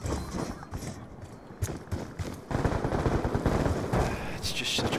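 Shotgun fire in Black Ops 2 Gun Game sounds through busy match audio, with rapid gunfire and footsteps that grow louder and denser halfway through.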